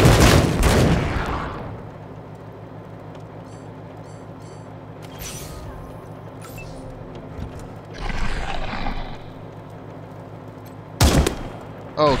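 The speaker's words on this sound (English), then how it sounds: "let's shoot this guy" Gunfire in the combat game Wasteland 3, a loud opening burst of shots fading out, followed by quieter ambience with a few more sharp bursts later, including one strong crack near the end.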